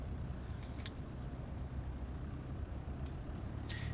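Aircraft engine in Microsoft Flight Simulator 2024 held at low throttle on the runway, a steady low droning rumble with faint brief clicks over it.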